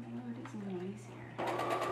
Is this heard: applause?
no